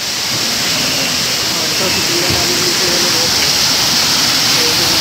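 Broad, steady rush of flowing water at a natural spring near Awike Resort in Calauan, Laguna, a continuous loud hiss filling the scene, with faint voices now and then underneath.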